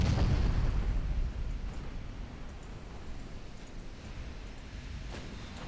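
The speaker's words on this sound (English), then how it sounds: "Talbot continues launching her frontal torpedoes." Battleship torpedoes launching in a naval warfare game give off low, rumbling booms and whooshing bursts, loud at the start and then settling into a sustained deep roar.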